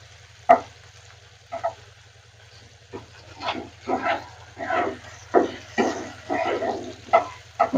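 Fish crackles in a pan, sparse sizzling bursts and spatters rising in irregular clusters over a faint steady hum, close by, with no talking.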